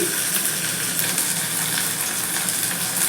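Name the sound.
sliced onion, tomato and green chili frying in oil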